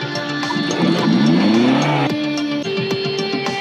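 A modified 1990s Toyota Corolla SE Limited, a used car for sale, runs loud and close with a rising engine sweep and a brief squealing edge before it settles to a steady hum.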